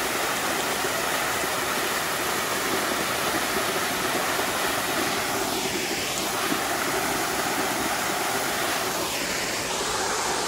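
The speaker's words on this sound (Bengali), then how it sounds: "দেখছেন কত সাদা ঝর্ণা, কত সুন্দর করে পড়তেছে।" A white waterfall pours down a hill trail in Bandarban with a loud, steady, close rush that fills the whole scene without pause.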